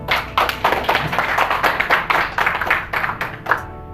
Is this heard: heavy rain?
no